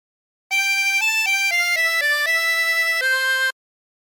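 Clean, steady reedy notes of La Cucaracha played on a 20-hole tremolo harmonica, a short run of sustained tones that shift in pitch for about three seconds, loud and close with no other sound.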